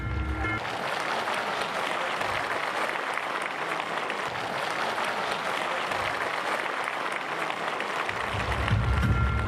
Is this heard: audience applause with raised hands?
yes